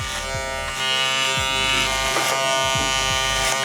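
Electric hair clippers buzz steadily and loudly up close while fading a beard in a self-cut, with the motor tone dipping in short repeated strokes.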